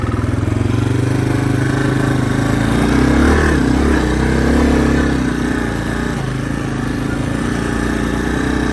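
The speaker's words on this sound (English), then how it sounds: "we're on the 85 Honda 250S Big Red today" A 1985 Honda 250ES Big Red engine runs loud and close, a steady chugging drone that swells slightly in the middle as it revs. Snow lies around it, and no one speaks.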